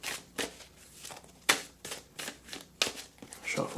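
Mists of Avalon oracle cards being shuffled by hand, a quiet run of soft papery riffles and slaps in an irregular rhythm, a few sharper snaps standing out, with no talking.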